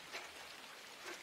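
Rain in the video game Inside: a soft, faint, continuous hiss of falling drops, steady throughout with no voices.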